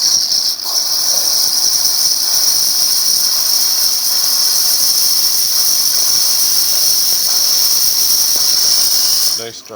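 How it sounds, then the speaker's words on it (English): The steam wand of a freshly serviced Gaggia Titanium espresso machine gives off a strong, steady, close hiss that holds unbroken for nearly ten seconds before cutting off abruptly. "Nice strong steam."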